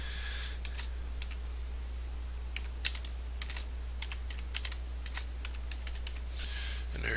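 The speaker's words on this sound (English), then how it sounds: "backspace it and type in your name" Computer keyboard keys tapped in short irregular bursts while typing a name, crisp close clicks over a low steady hum.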